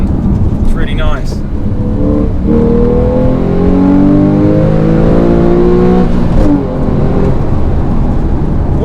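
A Porsche 991 sports car engine revs hard up through the gears, its pitch climbing, dipping briefly at each change, then rising again, loud and close.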